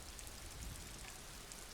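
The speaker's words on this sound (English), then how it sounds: "It's raining outside, light drizzle." Light drizzle falling in the video game Disco Elysium, a soft, steady hiss of fine rain heard alone at low level throughout, with no voices.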